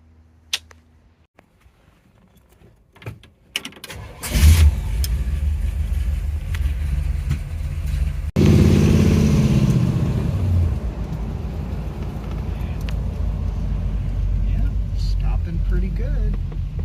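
A 1967 Chevy, revived after sitting abandoned for 15 years, pulls out for a test drive, its engine rumbling steadily and loud for about twelve seconds after a few faint knocks and clicks, with a brief surge in the middle.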